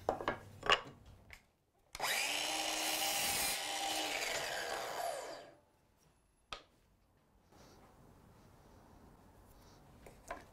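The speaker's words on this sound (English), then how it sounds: "I'm just going to cut them to 4 inches" A power saw cuts 2-inch wide wood offcuts to 4-inch lengths: a few faint knocks, then one steady, loud buzzing cut lasting about three seconds that winds down, followed by a sharp clack and quiet room tone.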